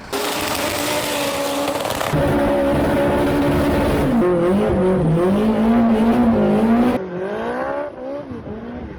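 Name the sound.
car engine revving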